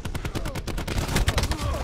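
Rapid gunfire bursts crackle through a Black Ops 4 multiplayer match, dense overlapping shots from automatic weapons sounding close and loud, continuous across the moment with game effects mixed in.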